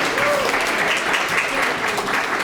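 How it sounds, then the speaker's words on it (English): Audience applause at an evening community storytelling event, a steady wash of many hands clapping at a moderate level, continuous for the whole stretch. "let's give them a big round of applause"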